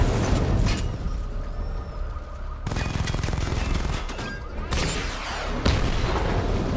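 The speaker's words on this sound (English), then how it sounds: "Destroy targets to charge up weapon energy and activate missile barrage." Missile barrage explosions go off in the Batman: Arkham Knight video game. Loud booms and rapid bursts of fire come in several clusters, with sharp onsets breaking up a dense, rumbling battle mix.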